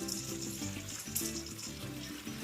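Warm water mixed with seaweed extract is poured from a jug onto young cabbage plants outdoors, a steady close trickle and splash running continuously with no talk.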